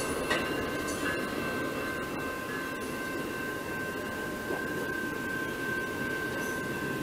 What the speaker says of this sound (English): It's an Amtrak passenger train on its way to Chicago.